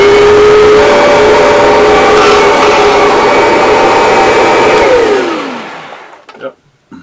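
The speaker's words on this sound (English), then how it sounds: "Here's the vacuum cleaner I'm using right now." Antique vacuum cleaner from around 1992 running indoors, a loud steady motor roar with a tonal hum that drops in pitch as it shuts off near the end, followed by faint handling noises.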